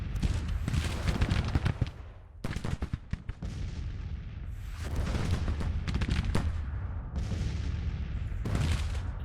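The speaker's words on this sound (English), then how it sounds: "And they fire on enemy." Musket volleys crack repeatedly in a Grand Tactician Civil War video game, dense bursts of fire rolling in clusters with brief lulls, loud and close over a rumbling battlefield din.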